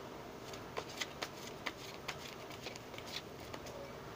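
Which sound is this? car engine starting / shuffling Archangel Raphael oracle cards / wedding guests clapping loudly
shuffling Archangel Raphael oracle cards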